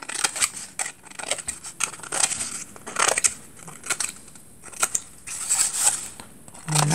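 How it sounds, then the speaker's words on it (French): Scissors snip around a cardboard tube while making a simple Christmas tree decoration, a run of close, irregular crunching cuts with short pauses between strokes and no talking. "je coupe tout autour. C'est pareil de ce côté."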